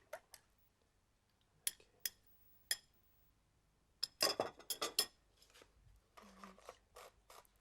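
Egg and milk being stirred into flour in a bowl with a utensil, heard as scattered scrapes and clinks, sparse at first and then a quicker cluster of rubbing strokes, fairly quiet overall.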